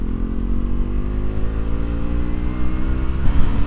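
A KTM RC 125 motorcycle engine revs and pulls hard as it accelerates to overtake, a buzzing single-cylinder whine rising in pitch with road and wind rush, heard from the rider's position.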